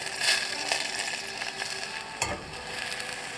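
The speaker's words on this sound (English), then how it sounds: "We're going to add a tiny bit of the juice from the beans in the skillet, in the pot." Olive oil and a splash of bean juice sizzle in a hot skillet pot, a steady close frying hiss with a few brief stirring clinks and scrapes, no voices.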